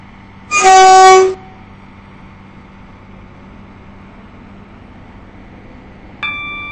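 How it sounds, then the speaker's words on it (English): A train in the Roblox railway game SCR, a loud sustained two-tone horn blast near the start, then a quieter rumble and a brief second chime at the end. "This train is now approaching Whitefield Lido."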